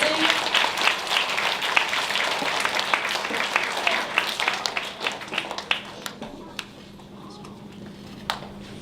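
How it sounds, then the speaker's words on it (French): An audience claps at a primary school's end-of-year show, with dense applause near and loud at first, then thinning to scattered claps as it fades out, with some voices mixed in. "On peut les applaudir."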